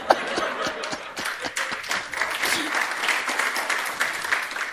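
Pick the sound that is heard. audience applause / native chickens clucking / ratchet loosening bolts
audience applause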